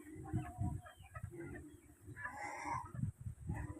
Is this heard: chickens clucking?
yes